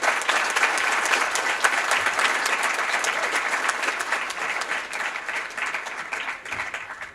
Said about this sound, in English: a really big round of applause to everybody in this room